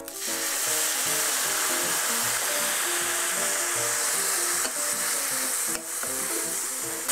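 Minced meat for a pancake and pie filling sizzles loudly and steadily in a pan, with regular scraping stirs running through the whole stretch and no talking.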